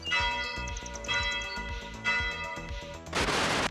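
A church-style bell in the BeamNG Drive driving game rings in repeated loud, resonant strikes whose tones overlap and hang, ending in a burst of noisy crash-like rumble.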